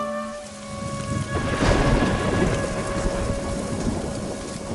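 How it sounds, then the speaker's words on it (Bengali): Steady rain falls with a loud roll of thunder near Fanchaytar, a hill area close to Darjeeling, the downpour hissing continuously throughout and no voices present. "কিছুক্ষণ পর বৃষ্টি শুরু হলো।"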